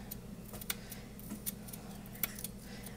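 A spoon scrapes the skin off a chunk of frozen ginger in a kitchen, giving faint, irregular scratchy strokes over a low background hum.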